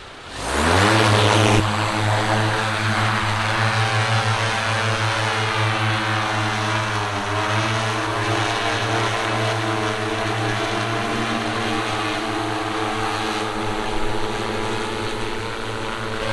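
An AUTO-10 agricultural spraying drone starts its propellers, rising within a second into a loud, steady mid-pitched rotor whine with strong harmonic hum that holds nearly constant, close by and alone.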